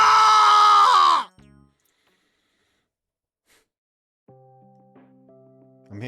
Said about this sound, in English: I'm hearing some really horrifying screams